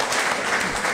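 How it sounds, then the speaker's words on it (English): A Q&A crowd gives the film's crew and actors a brief, dense burst of applause, close and continuous. "round of applause for them"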